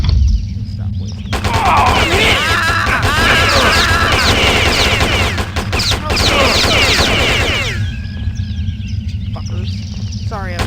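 Rapid bursts of video game gunfire in Postal, loud and sustained for about six seconds amid clattering impacts, then giving way to a quieter tail with a fading tone.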